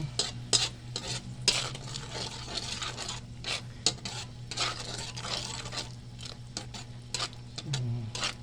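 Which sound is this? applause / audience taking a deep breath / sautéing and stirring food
sautéing and stirring food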